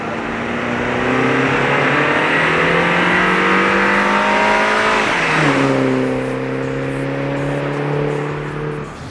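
A turbocharged 2.0-liter four-cylinder John Cooper Works Mini Cooper engine revs hard and climbs through a gear, drops briefly at the upshift, and then pulls steadily upward again, loud and close from inside the car.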